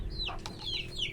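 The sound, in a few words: red rooster chicken clucking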